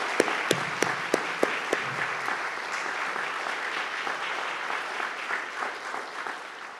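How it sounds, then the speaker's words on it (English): Audience applause for Purple Heart recipients at a ceremony in a war memorial building, opening with a few sharp separate claps that build into steady, moderately near clapping from a crowd, then slowly thinning out. "Let's give them a round of applause, everybody"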